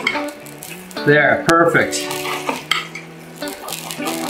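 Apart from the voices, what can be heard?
tenderloins cooking in Espagnole sauce in pan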